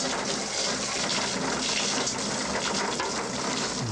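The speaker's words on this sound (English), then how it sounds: "We'll pour this good old juice in there and make us something to drink." Corn mash juice is poured into a moonshine still, making a steady, gushing liquid sound. The pour is close and continuous, with no speech.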